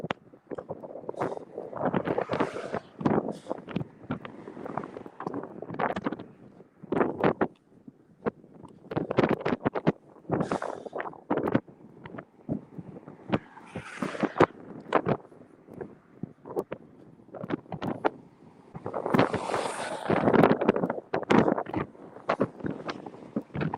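Strong wind buffets the microphone on the Seven Mile Bridge, coming as loud, rough gusts that surge and drop in irregular bursts with brief lulls between them.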